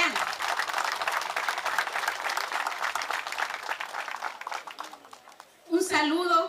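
Crowd applause for a town mayor at a political speech during a 2012 football tournament, steady and dense for about five seconds, then fading as a voice begins speaking near the end.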